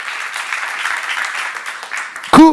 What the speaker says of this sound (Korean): 예수 믿는 게 복인 걸 믿으시면 박수하세요